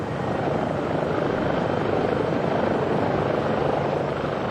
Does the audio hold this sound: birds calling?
no